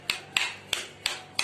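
Boiled, peeled potatoes mashed by hand, five sharp soft squashing thuds at a steady pace, close and fairly loud with no talking.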